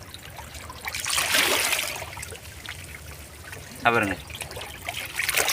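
Water splashing and trickling as a balloon fish is released back into the sea, soft sloshing close by with someone talking over it.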